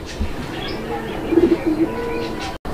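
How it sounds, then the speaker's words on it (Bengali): A pair of red Chulli pigeons give soft, low coos in a short run of a few notes at close range, with background murmur around them. "এইটা হচ্ছে লাল চুল্লি কবুতর একটা জোড়া"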